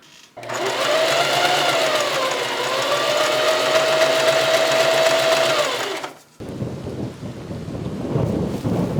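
A sewing machine runs a narrow zigzag stitch around a skirt for a date night outfit. It makes a loud, steady mechanical whir for about six seconds, then stops abruptly, leaving faint background noise.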